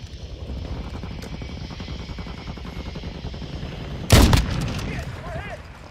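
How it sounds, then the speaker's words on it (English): Call of Duty Modern Warfare II airstrike: a steady thudding rotor-like pulse runs throughout, then a sharp loud burst of gunfire or blast near the end. "Hostile airstrike incoming."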